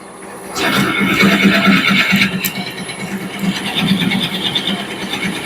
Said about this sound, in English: I'm going to drill the center out